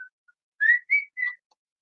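A person whistles three short, clear notes in quick succession, close and alone against silence.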